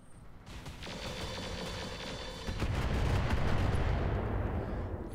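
Laser weapons in the mech game Roguetech fire in rapid, repeated crackling volleys. The barrage builds into a dense, continuous rumble of impacts, heard alone and moderately loud.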